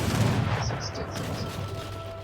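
Portuguese organ guns firing in a real-time strategy game battle, a loud rumbling volley at the start that fades into a softer, lingering blast tail.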